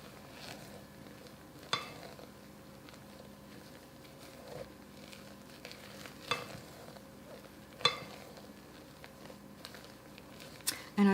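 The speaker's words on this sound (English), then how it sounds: "mixing this in, not with the machine, but with a spoon or this kind of tool, a spatula" Sacher torte batter is folded by hand with a spatula in a bowl: quiet, soft scraping and wet stirring strokes with occasional sharper taps, unhurried and close.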